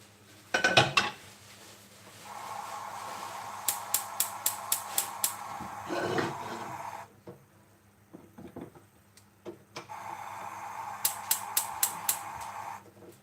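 A wok and metal utensils clatter and clink in bursts of sharp, repeated hits over a steady kitchen hum, with two busy stretches separated by quieter scraping.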